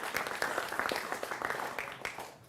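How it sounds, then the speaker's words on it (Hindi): A studio audience on a Hindi television news debate show gives loud, sustained applause, with dense overlapping claps that fade slightly toward the end. "जोरदार तालियों से इनका भी अभिनंदन करिए।"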